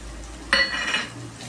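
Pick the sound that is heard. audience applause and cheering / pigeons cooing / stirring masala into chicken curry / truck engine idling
stirring masala into chicken curry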